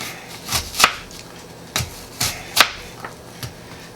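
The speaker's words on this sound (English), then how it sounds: "cut it this way, get a good chop on it" A knife chopping an apple on a cutting board, a handful of sharp, separate knocks at an irregular pace, close and clear with no talking.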